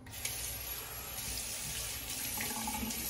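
Tap water runs steadily into a sink for rinsing a razor during a wet shave, a continuous close hiss and splash with no talk.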